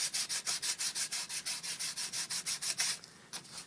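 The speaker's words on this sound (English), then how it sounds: "Give it a sand." A hollow paulownia timber surfboard is sanded by hand in quick, even back-and-forth strokes, a steady rhythmic rasp that stops near the end, heard alone and fairly quiet.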